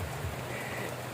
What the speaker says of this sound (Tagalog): maligo na ako ng ulan dahil nga maulan yung panahon